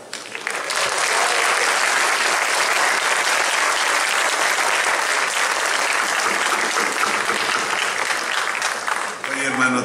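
An audience at a posthumous tribute concert bursts into dense, loud applause for a performer, a sustained wash of clapping that holds for about ten seconds before tapering at the end.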